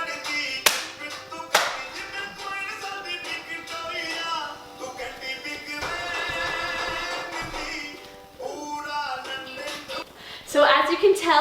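Sharp hand claps ring out from a dance routine while a rhythmic Bollywood-style song plays loudly underneath, with a few isolated claps spaced across the music.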